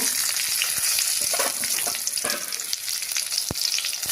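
Chili sizzling in hot mustard oil in a kadai, a loud continuous frying hiss with sharp crackles and pops throughout, close up and without voices.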